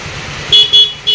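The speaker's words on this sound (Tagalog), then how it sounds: "So meron pa rin yung stock horn mga idol." A car's stock horn honks three times in short, loud bursts over a low idling engine rumble.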